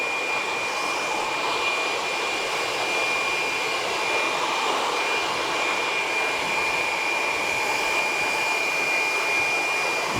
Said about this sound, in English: Just using the heat to push it back and let the nozzle do the work for me.